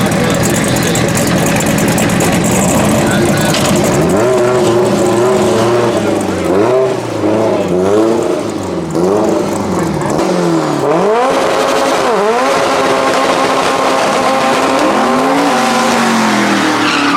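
Race cars at a no-prep drag racing shootout final at Manston Raceway Park: loud, close engines roar and rev in rising and falling sweeps throughout, with tire squeal and a commentator talking over the noise.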